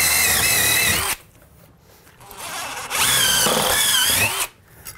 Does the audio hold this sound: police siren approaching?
no